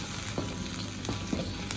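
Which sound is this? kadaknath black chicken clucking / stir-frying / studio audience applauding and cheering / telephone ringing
stir-frying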